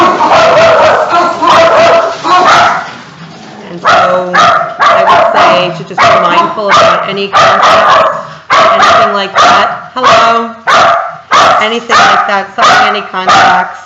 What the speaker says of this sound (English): I'm so sorry about my dogs.